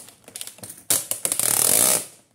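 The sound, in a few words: opening a cardboard package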